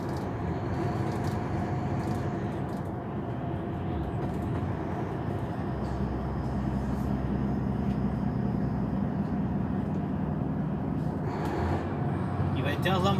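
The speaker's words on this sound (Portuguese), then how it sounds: "Escutar o ronco dos freios motor trabalhando, escutar aí." Truck engine brake working on a Brazilian highway: a steady, deep mechanical roar runs throughout, with someone talking over it.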